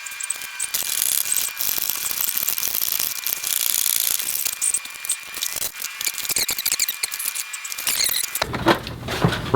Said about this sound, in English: there's going to be two bolts that are held on with a 10mm ratchet